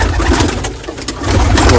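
Pigeons coo steadily inside a pigeon loft in low, throaty, rolling calls, with several birds overlapping close by and a soft rustling underneath.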